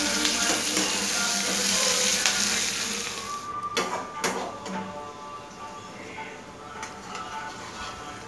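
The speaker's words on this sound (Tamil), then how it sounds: "சும்மா லைட்டாக அந்த எண்ணெயில் வதங்கினா போதும்" Chutney ingredients sautéing lightly in oil in a pan, a steady close sizzle and crackle with a few clinks of a stirring spoon, gradually settling quieter toward the end.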